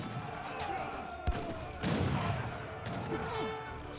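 Volleys of musket fire crackle through a battle between Chinese and Mexican armies in Age of Empires 3, with sharp shots and a dense fusillade layered over continuous in-game battle noise.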